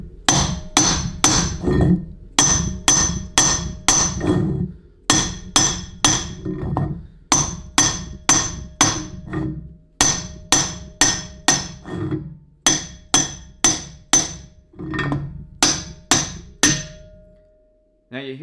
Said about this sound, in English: medium strength smacks with the hammer and the output shaft